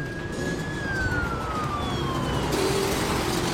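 A police car siren wails during a chase, one long falling sweep close by over road and engine noise, with a second siren tone joining near the end.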